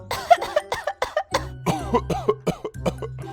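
A voice imitates coughing, a rapid series of short, forced coughs and throat-clearing bursts, close and fairly loud.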